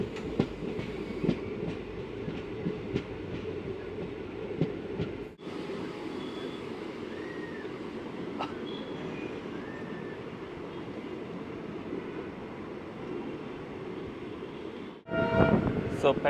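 Palakkad Town–Trichy Express pulling out of Pettavaithalai station, a steady rumble of wheels and carriages with faint clatter, a brief drop and a louder burst of rolling noise near the end.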